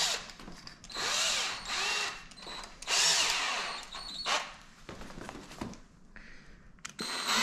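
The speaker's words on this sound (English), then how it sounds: "So I'm just going to grab another little bit bigger drill bit." A power drill fitted with a larger bit bores holes during work on a C7 Corvette, whining in several loud bursts of a few seconds each with short pauses between them, close up and with no voices.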